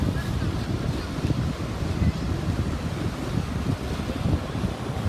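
Strong wind buffets the microphone outdoors during a DJI Spark drone flight in high wind, a loud rumbling gusty roar throughout with low thumping bursts and faint voices.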